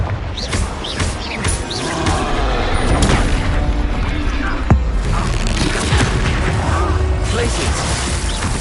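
Confringo spell blasts in Hogwarts Legacy crackle and boom amid a dense, loud battle din of thumps and fiery bursts, with one sharp impact standing out midway.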